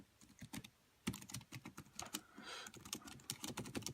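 Typing on a foldable mini AZERTY keyboard with an aluminium case, quick clusters of light key clicks after a short quiet start, close and fairly soft, with no talking.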